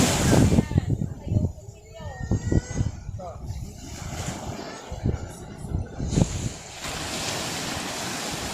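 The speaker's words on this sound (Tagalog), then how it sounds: "kalmang-kalma na yung dagat" Gentle surf from a calm sea washes in the background at Paysawan Beach while voices talk over it, with light wind buffeting the microphone outdoors.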